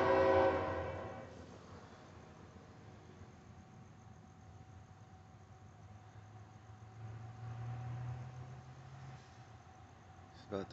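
A northbound FEC freight train passes through Titusville near the US 1 overpass and sounds its horn, a sustained blast over a broad, steady rumble of rolling cars.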